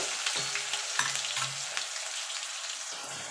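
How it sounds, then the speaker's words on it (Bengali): Potatoes fry in a pan until reddish-brown for a vegetarian cabbage dish, a continuous close hissing sizzle with a few soft clicks and no talking. "আমি আলুটা ভেজে দিচ্ছি"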